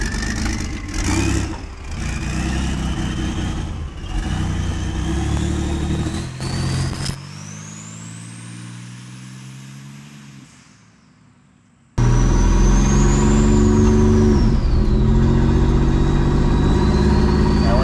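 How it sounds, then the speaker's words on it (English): A turbocharged, all-wheel-drive Chevrolet S10 pickup truck runs loud and close on the road, its engine note rising as it accelerates, easing off, then surging again with a climbing turbo whine. "I'm gonna pull it out on the road, give it some gas, and just see what the initial boost hit is like."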